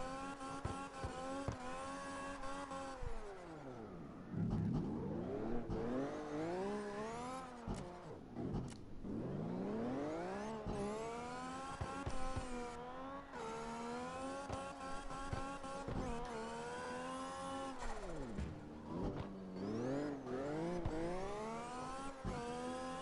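A Honda NSX driven in CarX Drift Racing, its engine repeatedly revving up and dropping through gear changes with rising and falling pitch, steady and up close, with faint tire squeal during slides.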